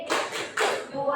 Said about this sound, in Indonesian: Ya, tepuk jempol lagi. Tepuk jempol.